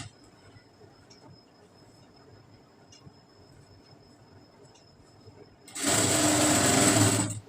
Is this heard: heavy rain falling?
no